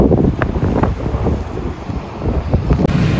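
Ocean waves surge against a barricade built to hold back the sea, heard as a loud, continuous wash and rumble mixed with heavy wind buffeting the microphone, with no speech.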